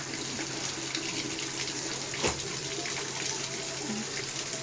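A tap left open pours water steadily into a bucket, a continuous rushing splash heard close up and alone, with a brief louder gush partway through.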